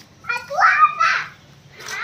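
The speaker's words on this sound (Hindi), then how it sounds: "रोने की आवाज़ आ रही थी" A young boy cries in short, rising wails, close and fairly loud, with a brief pause before another whimpering cry at the end, over a low background hum.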